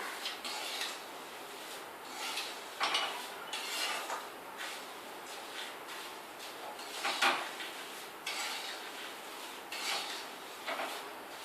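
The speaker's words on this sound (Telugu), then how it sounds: "ఇలా కింది నుండి కలుపుతూ ఉండాలి" Chuduva being stirred up from the bottom of a pan, with repeated scraping strokes coming in an uneven rhythm, close and moderately loud, no voices.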